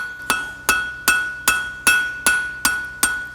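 Blacksmith's hammer striking a hot steel bar on an anvil, forging it to an octagon: eight evenly spaced, ringing metallic blows about every 0.4 seconds, close and clear with no talk.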